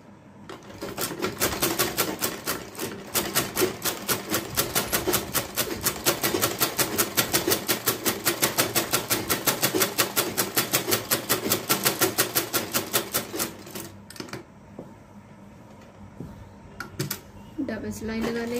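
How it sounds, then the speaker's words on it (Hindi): A sewing machine stitches shirt shoulder seams in a fast, steady run of needle strokes that lasts about thirteen seconds, then stops, leaving quieter handling sounds. "इनको अटैच करके दोनों कंधे सिलाई लगा लेंगे।"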